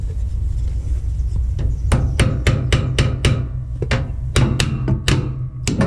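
Hammer tapping a dowel into a broken trailer landing gear box, a run of sharp metallic strikes at an uneven pace, loud and close over a steady low hum.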